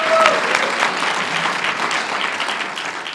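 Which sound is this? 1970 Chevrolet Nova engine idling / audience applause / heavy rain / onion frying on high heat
audience applause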